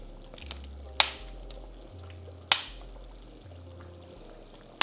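Dry lasagna noodles are snapped into pieces and dropped into a pot, giving a few sharp cracks spaced about a second or more apart over a low, steady background hum.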